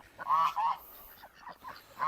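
A few loud, nasal honks from a bird nearby, coming in short bursts with brief pauses.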